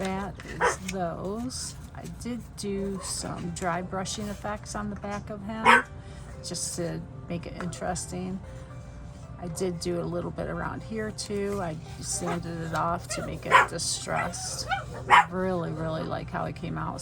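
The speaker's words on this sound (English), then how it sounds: "Sorry about the dogs barking" Dogs bark and yip repeatedly in the background at home, moderately loud, while someone talks steadily over them throughout.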